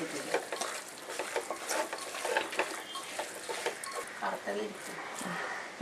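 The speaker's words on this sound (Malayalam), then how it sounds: "ഇനി ഇതെല്ലാം കൂടെ ചേർത്തിട്ട് നന്നായിട്ട് ഇളക്കി കൊടുക്കുക." Beef pieces stirred with garam masala and spice powders in a pan for Kerala beef roast: continuous close scraping and shuffling of a spoon with light sizzling, while someone talks throughout.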